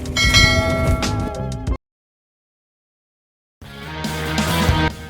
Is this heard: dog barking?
no